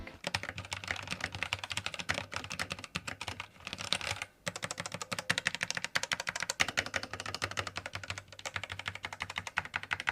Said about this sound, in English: do a quick typing test with these red keys to show you what they sound like